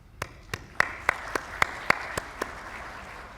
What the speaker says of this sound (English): I think we can applaud for our guest